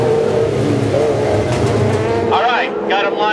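Dwarf race cars lined up at Barona Speedway, engines rumbling and revving loud and close, steady with a rising rev near the end, under an announcer's talk.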